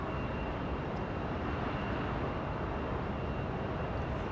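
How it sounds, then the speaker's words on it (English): An Asiana Airlines airliner taxis at Los Angeles International Airport, turning onto a taxiway, its engines giving a steady, broadband roar at moderate distance that stays even throughout with no speech. "Asiana Airlines making the turn onto taxiway Lima"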